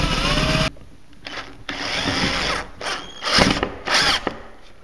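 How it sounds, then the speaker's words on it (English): A power drill drives a screw into wood while a shelf is hung on drywall, whirring in several short bursts separated by brief pauses, close and loud. "use a drill bit to make just an indentation to get the screw"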